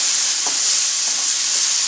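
Minced keema sizzles and hisses loudly in a pan over a high flame as it is stir fried, giving a constant bright crackle with a few soft scraping stirs.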